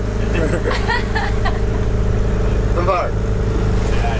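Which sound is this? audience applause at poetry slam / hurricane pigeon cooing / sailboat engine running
sailboat engine running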